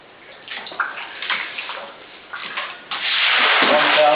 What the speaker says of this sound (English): But now it's low enough that I have to sweep it out.